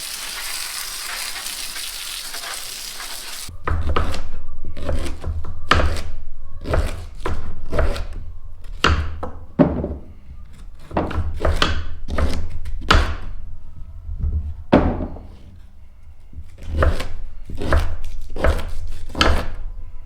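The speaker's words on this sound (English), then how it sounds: "So now we're gonna continue peeling the horseradish and then chopping it up." Chopping peeled horseradish root on a table: after a brief stretch of soft background noise, a knife strikes the board in a steady run of close, crisp thunks with short irregular gaps, continuing for over fifteen seconds.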